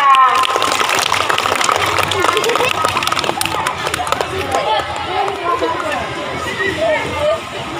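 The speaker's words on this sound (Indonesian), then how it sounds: "Tepuk tangan untuk Kak Rizka" Steady applause fills a school extracurricular and farewell gathering at MIN 3 Aceh Barat as a performer named Rizka is welcomed, with crowd chatter and a loud voice over the clapping throughout.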